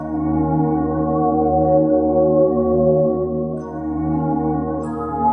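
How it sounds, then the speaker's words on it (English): Sustained synth pad chords played dry in FL Studio, with no effects, hold steady and loud for the whole stretch, a smooth layered tone with a faint bell-like shimmer and a brief change near the end. "Without effects, the pads sound like this."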